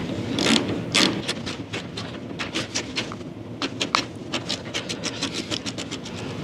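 A bolt coated with anti-seize is run in with a ratchet on a Scout fender during restoration, giving rapid, close, metallic clicking strokes in an uneven rhythm, with no voices.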